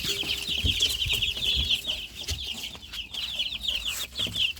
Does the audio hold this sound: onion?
no